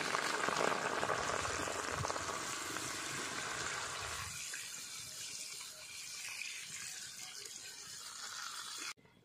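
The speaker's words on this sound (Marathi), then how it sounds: "चला तर मग पाववड्यासाठी मिरच्या तळून घेऊ" Green chilies frying in hot oil for pav vada, a dense, steady broadband hiss that is loud for the first few seconds, then settles into a softer, even sizzle that carries on to the end.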